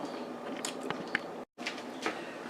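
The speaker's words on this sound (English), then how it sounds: "Let me finish chewing and then I'll be right back." Someone chews air-fried pork roast slices close to the mic, soft moist bites and crunchy chews in an irregular rhythm, quiet, with a brief dropout midway.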